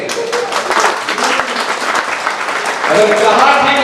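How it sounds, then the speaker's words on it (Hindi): Audience applause at a Hindi poetry recital, with a dense crowd clapping throughout that swells louder near the end, while voices carry on underneath. "आपसे मैं निवेदन करता हूं कि आपकी तालियां उठे"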